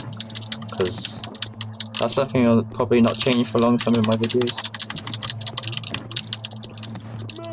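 Rapid computer keyboard typing clatters steadily close by during the horror game Eggs For Bart, with someone talking over the keystrokes almost throughout.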